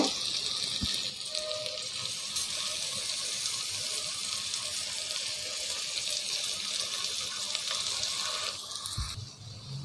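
Water pours steadily into a rice pot of basmati rice, a continuous splashing rush lasting nearly ten seconds before easing off, with a light clink near the start.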